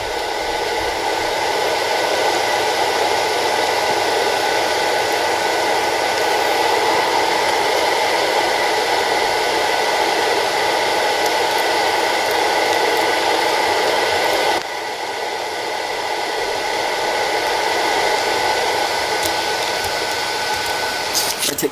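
A Toshiba traction elevator motor at the MGM Grand in Westlake City runs with a loud, steady, even drone. The tone shifts slightly partway through, and no one speaks.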